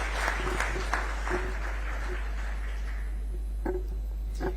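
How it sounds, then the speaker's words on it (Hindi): An audience at a technology conference event applauds, a moderate spread of claps that thins out over a few seconds with a couple of last isolated claps, under a steady low hum. "जोर से ताली बजाइए भाई COI के लिए।"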